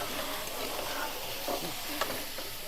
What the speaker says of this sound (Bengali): দিয়ে এবার আমি নাড়িয়ে নেব।